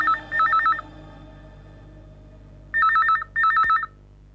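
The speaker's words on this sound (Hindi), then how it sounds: "फोन की घंटी बज रही है।" Electronic telephone ringing in a quiet room, one warbling burst followed by a pause, then two more bursts close together, clear and near.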